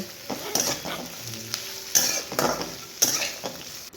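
Beans, chopped potatoes and tomatoes stir-fry in a pan for a Bhogi vegetable dish, a steady sizzle punctuated by bursts of scraping and clinking from a spoon stirring every second or so, without any voices.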